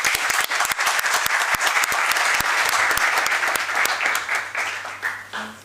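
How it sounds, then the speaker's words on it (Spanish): Strong audience applause closing a book presentation for "Los Mandos Medios", a loud, dense burst of many hands clapping that holds steady, then thins and fades toward the end. "nos podemos despedir con un fuerte aplauso nuevamente"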